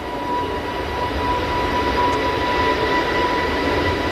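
An EasyJet airliner at Manchester Airport produces a steady, loud jet engine roar with a faint whine on top, heard alone without talk.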